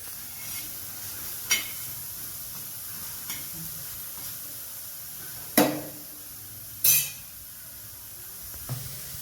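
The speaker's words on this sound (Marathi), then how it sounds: "पहिले कांदा भाजून घेते।" Onion roasts dry on a hot griddle with a faint, steady hiss broken by a few sharp crackles and spatula clicks spaced several seconds apart, two of them louder.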